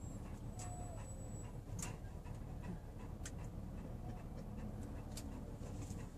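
Dogs herding cattle along a Montana highway, with faint panting and small yips over a steady outdoor hum, a few sharp clicks scattered through.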